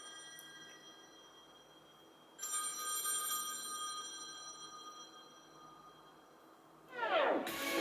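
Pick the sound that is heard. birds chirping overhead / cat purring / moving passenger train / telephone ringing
telephone ringing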